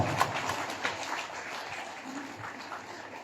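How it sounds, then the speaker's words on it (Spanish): Audience applause at a Day of the Dead community event in Ciudad Valles, fairly faint and distant clapping from an outdoor crowd, continuous with a few sharper claps standing out. "Fuerte el aplauso."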